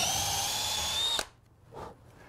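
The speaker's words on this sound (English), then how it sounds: "I'm going to use the spur of the Forstner bit is going to help guide this drill" A power drill fitted with a Forstner bit bores into wood in a garage shop, a steady loud whine for just over a second that then cuts off abruptly, followed by a faint brief scrape.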